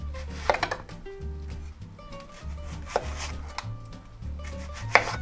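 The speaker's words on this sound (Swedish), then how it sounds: "Det är inte så jävla ofta man hackar lök faktiskt." A knife chopping yellow onion into strips on a board, a steady run of close, soft thuds and scrapes with a few sharper knocks, amid quiet kitchen background for a homemade burger.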